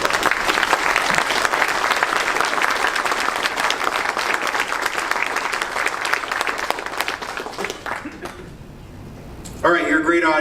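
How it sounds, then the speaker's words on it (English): An audience at a business breakfast event claps for a commander, dense sustained applause that fills most of the stretch before thinning out, then a voice speaks over the fading room at the end. "let's just give the commander another round of applause"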